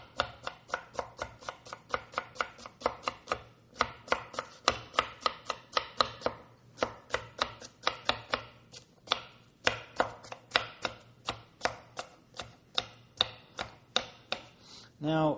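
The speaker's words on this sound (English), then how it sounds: "let's stack them up and chop away" A knife chops stacked herbs for tabbouleh on a cutting board with a rapid, steady rhythm of crisp, close strikes, dozens in a row with only brief pauses, and no voices.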